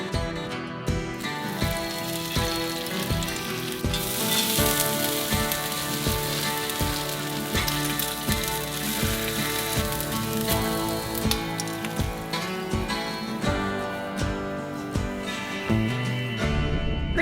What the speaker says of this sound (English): Pretty rainy this morning.